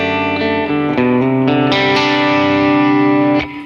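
Electric guitar played through a Fender Tone Master Pro with plate reverb, a run of ringing notes and chords with effects and light distortion, loud and alone, the last chord decaying into reverb.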